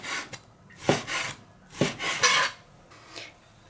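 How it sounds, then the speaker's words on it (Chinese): A knife on a cutting board slicing a small piece of pork fat into pieces, a few sharp thuds and scraping strokes in irregular bursts, close and fairly quiet with no talking. "肥肉先给它切片， 然后改刀给它切成小块"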